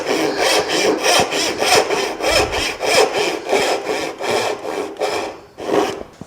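Hand saw cutting through wood in steady back-and-forth strokes, a rasping rhythmic scrape of about a dozen even pushes and pulls, close and loud with no talking.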